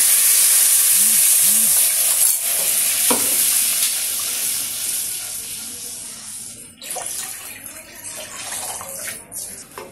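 Water is poured into a hot pan of spiced mixture for a Maharashtrian shengole recipe, starting as a loud hissing sizzle up close that gradually settles into a softer bubbling simmer.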